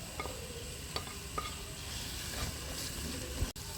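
Onions tossed into a pan with crushed garlic and ginger for macaroni, sizzling steadily while a spoon stirs and scrapes with a few sharp clicks, close and alone.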